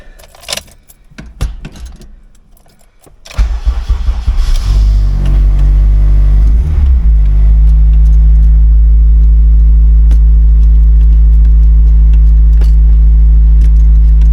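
Keys jangle and clatter up close before a car engine cranks and fires, freshly fitted with a new transmission and clutch, then settles into a loud, steady idle with a brief rev as it catches.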